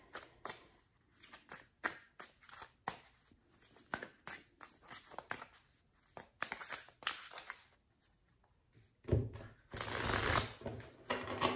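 Tarot cards are shuffled by hand with a quick run of soft riffling, slapping bursts, rising to a louder, denser flurry near the end, with no talking.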